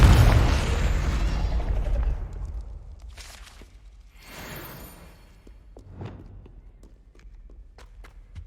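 A Confringo fire spell from Hogwarts Legacy bursts with a loud, close boom at the start, its roar fading over about two seconds, followed by scattered quieter bangs and crackles.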